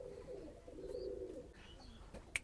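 Pigeons at a farm coo softly in a low, throaty rolling call, with a brief faint chirp near the end, quiet and close against a hushed background.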